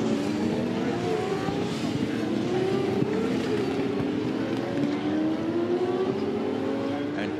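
V8 Supercars racing at the 2013 Austin 400, a steady loud roar of several engines with rising and falling pitch sweeps as cars accelerate and pass, continuous throughout with no gaps.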